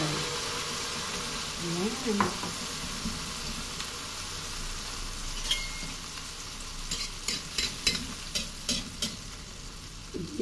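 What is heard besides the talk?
eggplant omelette mixture frying in hot oil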